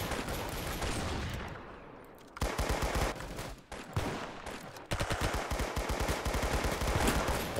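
Gunfire in the online shooter game Arsenal, rapid bursts of loud close shots in dense volleys with brief pauses between strings, no talk over them.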